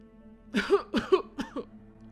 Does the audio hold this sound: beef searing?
no